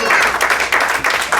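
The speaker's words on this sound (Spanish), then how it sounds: "denle un fuerte aplauso al Señor." Congregation clapping in a church service, a dense steady patter of many hands at fairly loud level over a short stretch, with some crowd voices mixed in.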